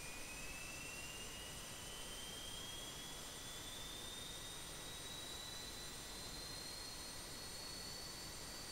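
An IXEG Boeing 737-300 jet engine starting in X-Plane 11, a steady loud whooshing roar with a high whine slowly rising in pitch as the engine spools up, no talking.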